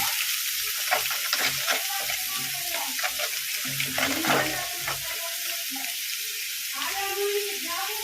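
Green chilies with salt and turmeric sizzle in a pan, a steady frying hiss with scattered stirring scrapes and taps throughout.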